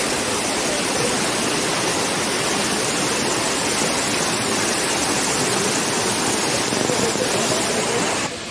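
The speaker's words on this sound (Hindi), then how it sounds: "पानी भी ज़्यादा आ रहा है इस वजह से वाटरफॉल में" Kapila Theertham waterfall in Tirupati, running high with heavy flow, pours in a loud, continuous broadband roar that stays constant throughout, with no voices over it.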